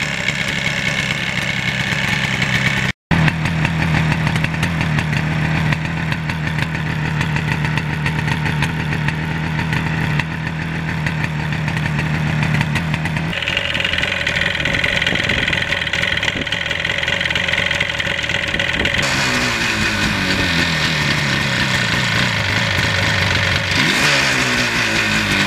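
A 1977 Yamaha RD400 two-stroke motorcycle idles steadily up close for a long stretch on a cold day, the pitch shifting a few times as the revs change, with no talking heard.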